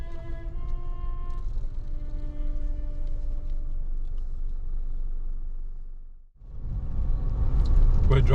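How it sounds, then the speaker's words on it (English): A car travels along a gorge road that follows a riverbed in the Flinders Ranges, a steady engine and tyre rumble under a few tonal hums that fades into a brief dip before the noise swells back louder. "We're driving through Parachilna Gorge."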